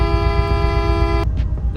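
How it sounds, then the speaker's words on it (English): A car horn in the Roblox Greenville video game, one steady, bright synthetic honk held for just over a second that stops abruptly, over a constant low engine rumble. "Here's the horn"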